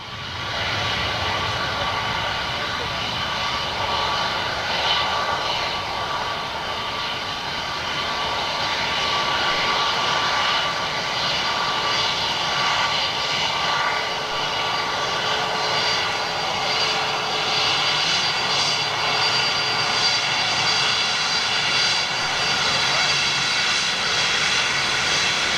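Aircraft jet engines at Manchester airport, a loud continuous whining roar with a high tonal whine over broadband rush, sustained and steady for the whole stretch with no talk.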